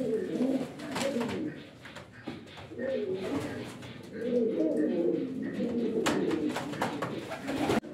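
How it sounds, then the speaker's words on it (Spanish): Buchon pouter pigeons in a loft cooing in repeated low rolling phrases, close and fairly loud, with some sharp wing or perch clatters and someone talking at times. "aquí os presento también una paloma muy bonita"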